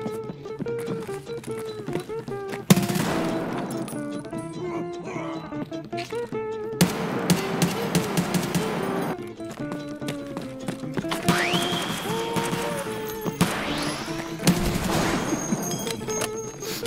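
Bursts of gunfire in Escape from Tarkov on the Factory map, loud, rapid overlapping shots that come in several volleys over a dense, busy game mix, with no speech.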